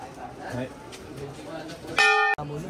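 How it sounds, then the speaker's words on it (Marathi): A temple bell at Kedarnath rings out once with a bright metallic clang over a murmur of background voices, cutting off abruptly. "जिकडे जाल तिकडे घंटा"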